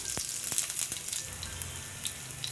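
Cumin, mustard seeds and onions fry in hot oil in a pan, giving a steady close sizzle broken by a few sharp crackles and pops.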